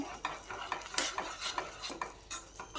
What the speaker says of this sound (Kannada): ಈಗ ಎಲ್ಲ ಮಸಾಲೆನೂ ನೀಟಾಗಿ ಆಯಿಲಲ್ಲಿ ಮಿಕ್ಸ್ ಮಾಡ್ಕೊಳ್ಳೋಣ